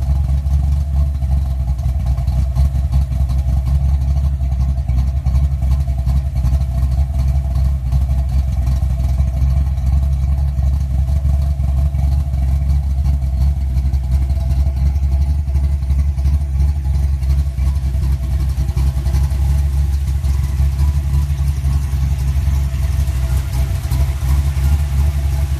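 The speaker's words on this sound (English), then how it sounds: "I'll put up a clip of what my car used to sound like before I switched to the E303." A car engine fitted with a radical camshaft idles in a steady, continuous low rumble, alone and fairly close, with no revving changes.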